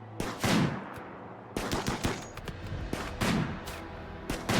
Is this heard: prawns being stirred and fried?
no